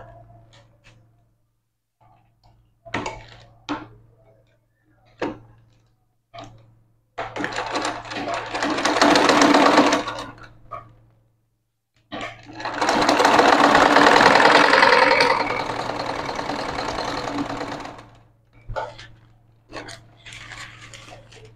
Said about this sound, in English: I'm done sewing.